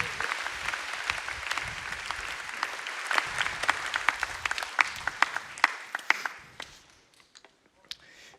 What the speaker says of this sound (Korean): 우리 뜨거운 박수로 환영하도록 하겠습니다.